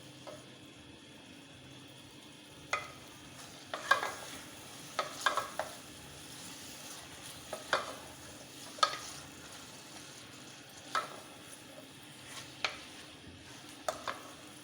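Ginger and garlic stir-fried in a pan for bhuna keema, a soft steady sizzle under scattered clinks and scrapes of a spoon against the pan, quiet and close.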